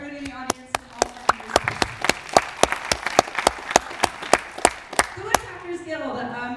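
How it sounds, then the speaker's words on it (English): Audience at an awards ceremony for a small-town film festival gives a round of applause, mostly sparse, individual sharp claps in a loose rhythm, with voices talking over them and then continuing as the clapping fades. "So big round of applause for everybody in the audience."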